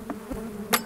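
Honey bees from a smaller colony on about nine frames hum around an opened hive during a Bailey comb change, a soft steady buzz close by with a few brief louder knocks.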